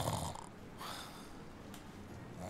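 Sleeping cultists snore in a dungeon in The Dungeon of Naheulbeuk video game, with soft rasping breaths and snorts rising and falling, faint and unhurried, with no talk over them.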